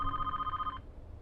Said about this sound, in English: Then over the intercom they heard the sound of a phone ringing in the security room.